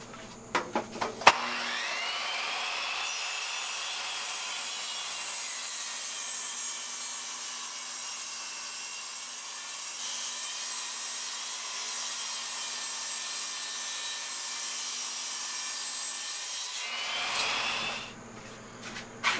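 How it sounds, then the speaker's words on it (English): A saw slices 3/4 inch strips from a single wooden board, a steady loud high whine running unbroken for about fifteen seconds, with brief knocks at the start and the blade spinning down at the end. "Let's go to the saw."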